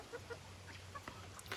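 Free-range chickens on a farm, with faint scattered clucks and short calls over a low steady hum, quiet and fairly distant.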